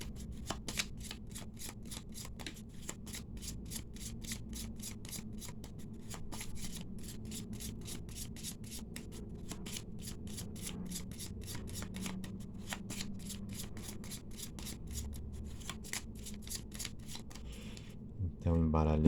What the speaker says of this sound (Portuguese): vamos embaralhar suas cartas